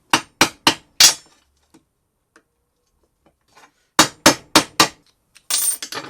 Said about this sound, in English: we just hammer it in between these layers